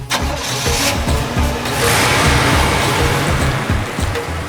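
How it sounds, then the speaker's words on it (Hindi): A car engine cranks and catches, then settles into a loud, close running rumble that continues for several seconds. "चलो गाड़ी चलाओ।"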